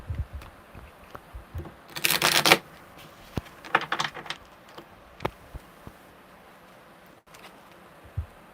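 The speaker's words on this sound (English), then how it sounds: "That was a really good shuffle." Tarot cards riffle together in one loud, quick burst, followed by scattered taps and soft clacks as the deck is squared up, close by in a quiet room.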